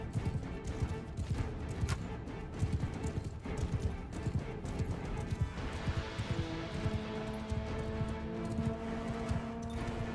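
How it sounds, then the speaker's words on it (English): Horse archers galloping in the Mount & Blade II: Bannerlord video game, a dense continuous drumming of many hooves with battle noise, steady and moderately loud without pauses. "looks like horse archers are charging"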